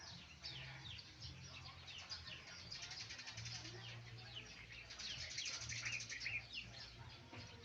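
A small bird chirps and flutters its wings repeatedly while fighting its own reflection in a mirror, the sounds faint and scattered over a low background hum.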